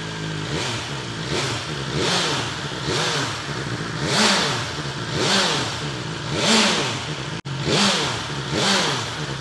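A vehicle engine fitted with a new exhaust revs repeatedly, rising and falling in about seven close, loud bursts with a brief cut near the end, with no talk over it.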